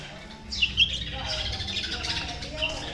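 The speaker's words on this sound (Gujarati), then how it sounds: "બુલબુલ જો અહીંયા કલબલાટ કરે છે" Several bulbuls chatter and chirp nearby in quick, busy calls, with a faint background hum.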